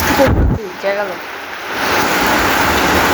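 A sudden rain shower with thunder starts with a low rumble and a brief murmur of voices, then swells into a steady, loud wash of falling rain.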